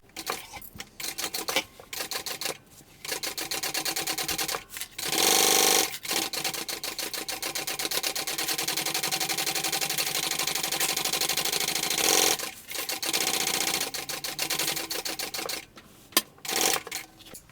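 A sewing machine runs a seam around a bucket bag in quick, rapid stitching bursts separated by short pauses, close and moderately quiet, with no talking.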